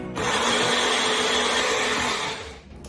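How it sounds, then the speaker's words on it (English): A blender whirs steadily for about two seconds while blending potato salad ingredients, loud and close, then winds down and stops. No one talks. "Going to press it down and blend."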